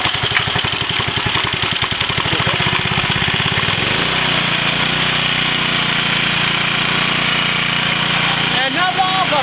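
A homemade engine-driven alternator generator catches and runs, its small engine chugging rhythmically before settling into a steady idle, loud and close, with a voice talking over it near the end.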